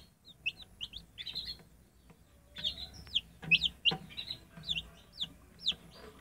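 A hen softly clucks while a young chick peeps repeatedly nearby, the chick's high, thin chirps coming in quick irregular bursts over low, close clucking.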